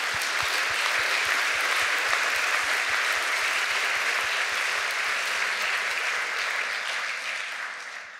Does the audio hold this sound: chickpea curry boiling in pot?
no